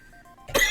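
A character in the Arcade Spirits: The New Challengers visual novel gives a short, harsh cough that bursts out after a soft tonal lead-in and is over in under a second.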